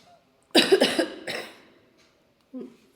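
A few harsh coughs from an adult reading aloud, loud and close, a quick burst of two or three followed by a softer one, then a short pause and a faint final cough, with no talk.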